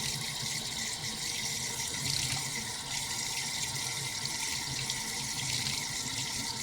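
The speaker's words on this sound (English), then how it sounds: "So let's wash our celery." Celery being washed under a running kitchen tap, a steady close rush of water splashing into the sink throughout.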